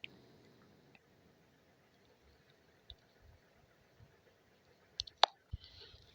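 A few faint, sparse clicks of a computer mouse over a quiet background, with a couple of sharper clicks near the end.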